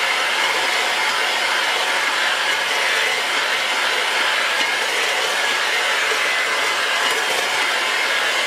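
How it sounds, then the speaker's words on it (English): Egg yolks and sugar for plum custard ice cream are whisked with a steady, loud, unbroken whirring drone that holds constant throughout, with no speech. "I'm going to go ahead and whisk this."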